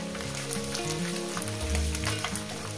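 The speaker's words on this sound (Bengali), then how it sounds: "তাই মাছগুলো ভালো করে ভেজে নিই" Small mourala fish frying in hot oil, a dense crackling sizzle with bubbling pops close by, steady and loud with no talking.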